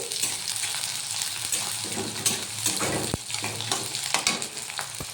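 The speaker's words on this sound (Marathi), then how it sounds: "तर बघू शकता मिरची आणि कांदे होत आहे." Chilies and onions fry in a pan with a steady, dense sizzle throughout, broken by a few sharp clinks of a utensil against the pan.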